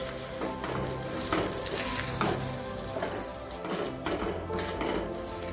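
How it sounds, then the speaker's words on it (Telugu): A bread-crumb and milk mixture for barfi is stirred in a pan, giving repeated scraping strokes at a steady rhythm over a soft, constant sizzle, close and fairly quiet. "ఈ విధంగా వేసుకున్న తర్వాత అంతా కలిసే విధంగా ఈ విధంగా కలుపుకోవాలి."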